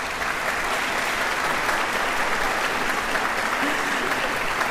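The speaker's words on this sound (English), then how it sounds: "Please join me in offering a round of applause as they leave our hall." A concert hall audience applauds the adjudicators leaving after a singing competition finals concert, a dense, even wash of clapping that holds steady throughout without pause.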